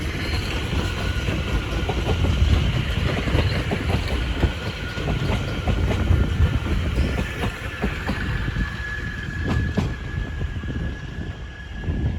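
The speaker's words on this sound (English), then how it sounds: "Now departing is the 1457 London Overground service from London Euston to Watford Junction" A London Overground train rolls past at Bushey on the West Coast Main Line, a steady close rumble with rail clatter and a faint high whine, no voices.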